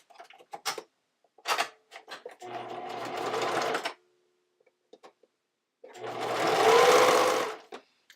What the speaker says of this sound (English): I'm just going to stitch that along here, going through all of the layers